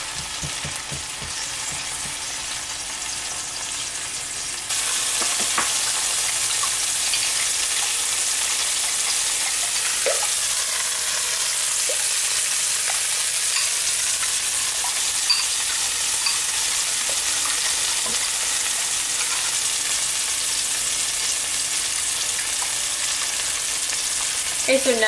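Tomatoes cook in a pan over medium-high heat with a loud, steady sizzle that jumps up early and then holds as a dense, even hiss throughout, broken by a few faint clinks.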